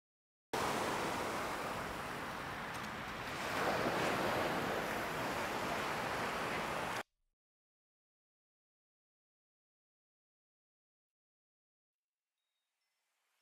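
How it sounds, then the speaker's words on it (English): Ocean surf rolls steadily under a breezy sea wind, swelling a little around the middle before cutting abruptly to silence after about seven seconds. "Sea breeze, ocean breeze."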